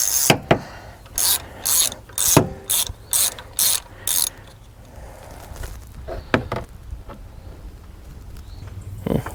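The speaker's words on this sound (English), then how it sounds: "let's get our plug socket. Let's crack this guy loose here." A ratchet with a plug socket loosening a spark plug on a Chrysler 200 3.6L V6. About eight rapid, loud clicking ratchet strokes come in a steady rhythm close by, then scattered quieter clicks and knocks follow.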